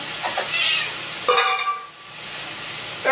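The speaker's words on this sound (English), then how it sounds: "we give the little scraps to the kitty cat" A house cat meows close by, a short clear call in the middle, set against clattering kitchen noise and faint sizzling.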